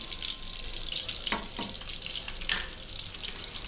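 A spoonful of butter sizzling in a pan coated with refined oil, a steady close hiss broken by a few brief crackles and spatters, with no voices.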